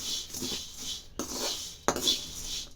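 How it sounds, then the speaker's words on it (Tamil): Puffed rice is dry-roasted in a pan and stirred, giving a dry rustling scrape with a couple of sharp metallic knocks of the spoon against the pan, close and moderately quiet. "இப்போ பொரியை போட்டுச்சு லைட்டாக வறுத்து பொடி சூடு வரைக்கும் வறுத்தால் மட்டும் போதும்"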